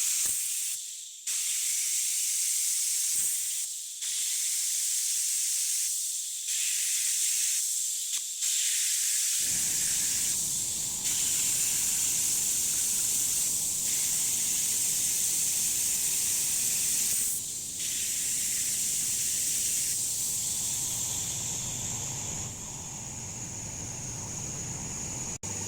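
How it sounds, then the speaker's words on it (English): Fresh transmission oil forced by hose from a filling tool into a Mercedes-Benz 7G-Tronic automatic gearbox, a steady loud hiss and rush running continuously, joined partway by a low rumbling flow underneath. "I'm going to attach the hose and push all the brand new oil into the gearbox"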